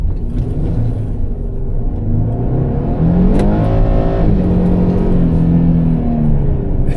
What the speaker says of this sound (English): I like the V6 rumble